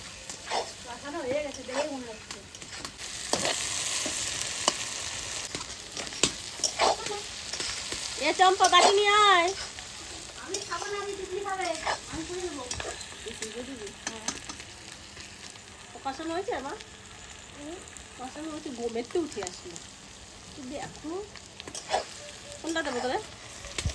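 Jackfruit curry masala sautés with goat fat in a pan, a soft continuous sizzle with occasional stirring running under people talking nearby.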